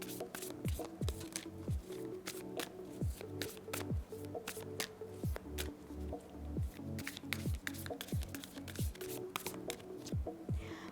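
Tarot cards shuffled by hand in a steady run of soft riffling snaps and slides over about eleven seconds, close and fairly quiet, with no voices.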